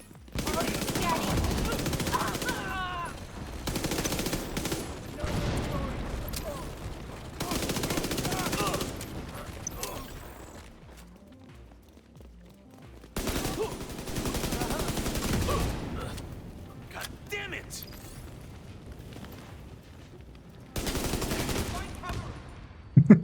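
Bursts of rapid video-game gunfire, close and loud, come in several separate volleys over about twenty seconds, with quieter stretches between them and faint voices in the background.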